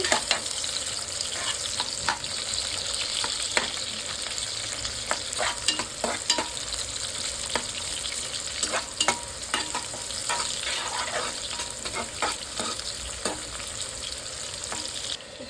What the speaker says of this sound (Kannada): ಇವಾಗ ಕಟ್ ಮಾಡಿಟ್ಕೊಂಡ್ರೆ ಈರುಳ್ಳಿ ಹಾಕೊಳ್ಳೋಣ. ಚೆನ್ನಾಗಿ ಫ್ರೈ ಮಾಡ್ಕೋಬೇಕು ಇದನ್ನ.